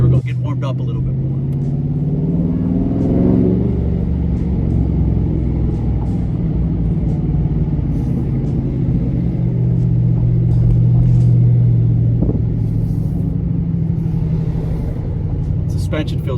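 A 2021 widebody Dodge Charger with its mid muffler deleted and a manual gearbox rumbles along at low speed. Its exhaust drones steadily, with occasional sharp pops and a couple of revs rising and falling. Faint talk can be heard in the car.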